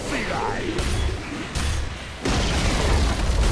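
A Dota 2 tower destroyed in an explosion, heard as repeated heavy booms and thuds over a continuous dense rumble, with a louder burst near the end; game effects layer over it.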